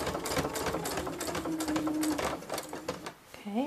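A sewing machine stitching a tote bag runs steadily in a fast, even whirring rattle throughout, close and loud, with a person talking over it and a brief pause near the end.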